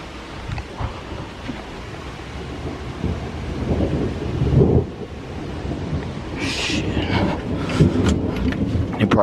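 Heavy nighttime thunderstorm with steady loud rain and deep rolling thunder rumbles building and fading throughout, rain hiss growing denser toward the end.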